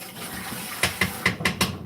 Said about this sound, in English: Rinse it off because I'm going to use that for later.